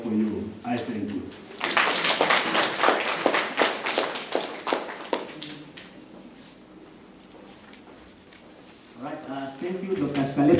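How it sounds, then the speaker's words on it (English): Workshop audience applauding after a welcome speech, a burst of dense clapping that builds and fades over several seconds, with a voice speaking before and after it. "Another round of applause for Dr. Shkalepo"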